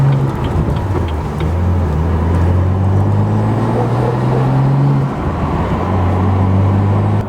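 A BMW F87 M2 with the N55 engine and a manual gearbox, driving with a steady low engine drone that rises slowly in pitch, dips at a shift, then settles again, heard close from the cabin.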